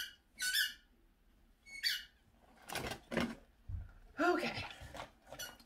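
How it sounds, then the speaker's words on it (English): A squeaky toy squeaks in repeated short bursts, loud and close, while a person speaks briefly amid some soft handling noises. "right now you will hear the squeaking throughout this video"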